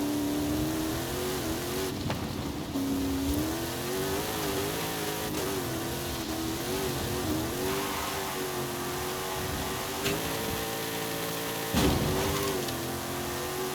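An off-road car's engine revs hard in Forza Horizon 5, the loud pitch climbing and dipping steadily through acceleration and gear changes for the whole stretch, with no talking.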